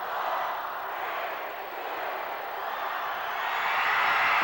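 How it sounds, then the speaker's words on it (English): Crowd at a 1993 high school basketball state championship game between Pottstown and Valley in the final seconds: a steady, dense roar of many voices that swells slightly toward the end, with no clear separate counts. "You can hear the crowd count it down."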